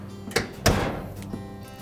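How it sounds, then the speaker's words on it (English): A Whirlpool dryer door is pushed shut during an idler pulley repair, giving two close, solid thunks, the second louder with a brief rattling decay. "We can then close the door."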